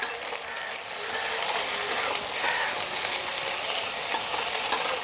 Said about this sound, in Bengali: মশলাগুলো সামান্য একটু ভেজে নিলাম।